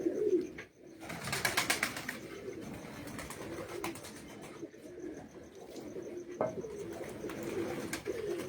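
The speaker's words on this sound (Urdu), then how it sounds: "عامر بھائی کوئی ایسا کبوتر دکھائیں جو آپ کے پاس 2-3 سال سے لگاتار پروازوں میں اڑ رہا ہو" Pigeons coo repeatedly in low, throaty rolls on a rooftop, close and clear, with fluttering and scattered shuffling between calls and no talk.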